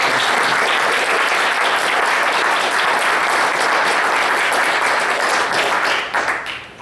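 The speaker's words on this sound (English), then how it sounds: "Could we give them a round of applause?" An audience gives a panel a sustained round of applause, dense and loud for several seconds before tapering off at the end.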